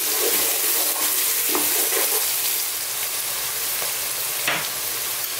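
Vegetables cut into small bite-sized pieces fry over medium heat in a pan, giving a steady, loud, close sizzle with occasional scraping stirs, with no talking.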